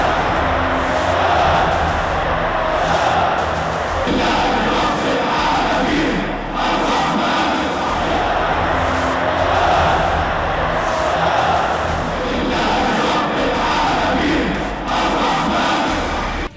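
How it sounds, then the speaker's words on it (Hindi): A large crowd at the release of prisoners amid the Israel–Hamas war shouts Allahu Akbar slogans in loud, continuous rhythmic chanting waves with no gaps. "उसे उसके समर्थकों ने कंधों पर उठा लिया और भीड़ ने अल्लाहू अकबर के नारे लगाए"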